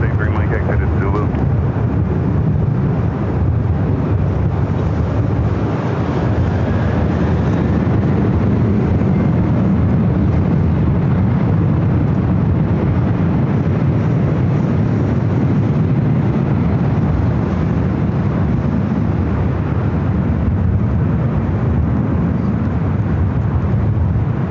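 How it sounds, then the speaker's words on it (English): A Delta Boeing 767 airliner bound for Honolulu takes off from runway 24 Left at LAX, a steady, loud, broad jet roar that fills the whole stretch, with faint voices underneath. "Delta 767 flight heading to Honolulu. Now cleared for takeoff on 24 left."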